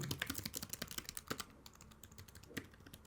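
Rapid, light tapping on an ASUS ExpertBook P5 laptop keyboard, fairly quiet with uneven bursts of keystrokes and brief pauses.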